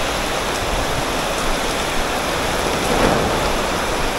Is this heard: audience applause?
no